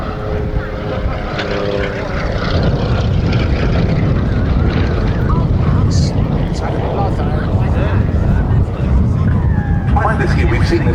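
Lockheed 12A Electra Junior propeller aircraft flying at a Battle of Britain air display, giving a loud, steady engine drone that fills the whole stretch with the buzz of its propellers.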